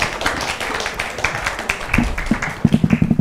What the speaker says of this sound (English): big round of applause for Deep for moderating it so well